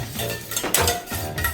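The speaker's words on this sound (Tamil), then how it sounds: "முட்டை கலக்கிட்டு இருக்கோம்" Eggs whisked in a bowl during late-night home cooking, a steady close-up clatter and scrape of utensil against the bowl with no voices.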